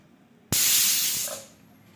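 Pressure cooker on high flame venting steam after one whistle while cooking moth beans for misal, a sudden loud rushing hiss that holds for about a second and then fades out.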